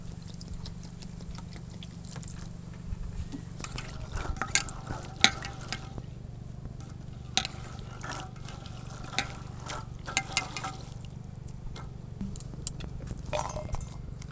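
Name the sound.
washing coriander leaves and ingredients in water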